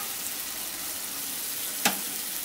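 Spice masala with cashew paste and a little sugar, for a raw papaya kofta curry, fries in a pan with a steady soft sizzle. One brief louder scrape or clatter comes near the end.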